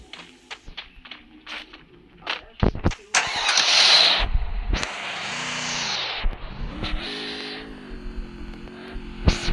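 Car engine in the mobile shooter Free Fire Max, starting up and revving with a rising, then falling drone in the middle, while game effects and speech are heard around it.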